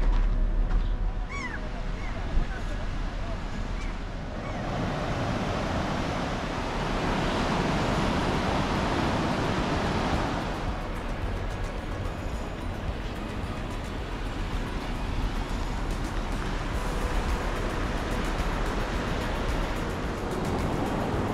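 Waves wash onto the beach at Stone Island in Mazatlán, making a steady broadband roar of surf mixed with wind buffeting the microphone. The sound surges and eases slightly over about twenty seconds, and no voices are heard.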